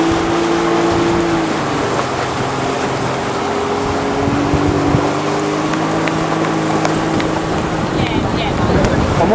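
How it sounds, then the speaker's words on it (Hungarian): A motorboat travelling along a river in the Peruvian Amazon jungle drones steadily and close, with a shifting engine tone over rushing wind and water for the whole stretch. "A motorcsónak, amivel mi jövünk."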